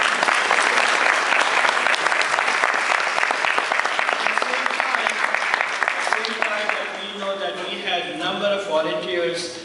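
A Nepali community audience in Virginia gives rescue team chiefs a loud, dense round of applause that fades after several seconds as talk and murmuring take over.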